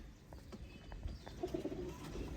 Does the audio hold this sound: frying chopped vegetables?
no